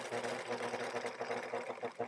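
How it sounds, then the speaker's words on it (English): Sewing machine running continuously while stitching a wrap skirt seam down toward the hem, a close, even, fast rhythmic chatter of the needle with soft motor hum. "I'm just gonna sew all the way down towards the hem."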